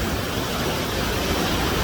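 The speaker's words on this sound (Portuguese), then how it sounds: "eu espero que vocês consigam me escutar por causa do barulho da água" Loud, steady rush of water pouring down the Cachoeira Horizontes waterfall in Fechados, Santana do Pirapama, Minas Gerais, swollen by rain, a continuous broadband roar filling the whole clip with no voices over it.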